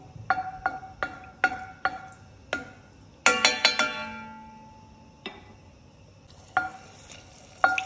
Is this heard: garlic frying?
yes